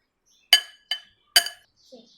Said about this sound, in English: Now let's take the spoon. Now let's mix it. Now let's mix it well.